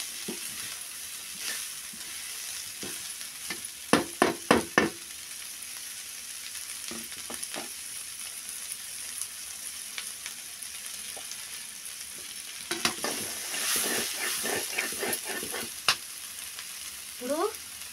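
Broad beans frying in a pan and being stirred, a continuous sizzle broken by quick runs of spoon scrapes, some close together and others spread out, with no talking.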